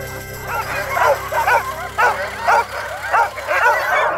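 Sled dogs in the Canadian Rockies yip and bark in a steady run of excited calls and whimpers, about eight bursts in quick rhythm, close and fairly loud, with a faint voice in the background.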